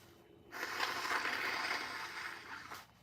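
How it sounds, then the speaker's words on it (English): A single loud, breathy nose blow lasting a couple of seconds, close up, with no talking around it. "Your girl had to blow her nose."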